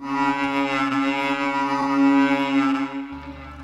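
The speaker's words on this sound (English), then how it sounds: "I turned it into a synth which sounds like this." A sustained buzzy synth tone built from a cow moo sample in the Vital synth, holding one pitch with rich overtones, shifting to a lower note at the end; loud and alone.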